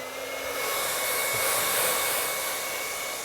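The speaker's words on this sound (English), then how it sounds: "what I'm going to do is take and put my blower on," An electric blower drying wet paint on an artwork, a steady close whooshing airflow that swells slightly louder midway and runs without a break.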